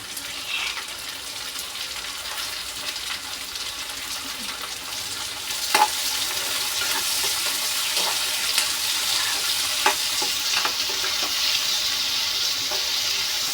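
Chopped onion and tomato fry in a pan with a steady, moderately loud sizzle, a few sharp clicks and scrapes of stirring now and then, and no talking.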